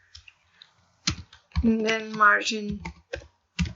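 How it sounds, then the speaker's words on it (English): Keys on a computer keyboard click in scattered bursts while someone speaks over them, the taps fairly close and crisp between his words. "I don't know what's wrong with my keyboard actually."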